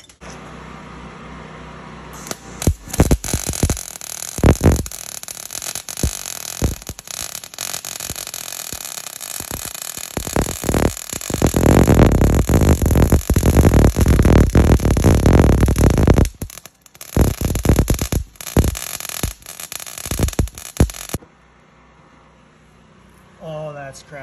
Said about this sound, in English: When running the welder with a generator, there's one key thing that you must do, and that's grounding.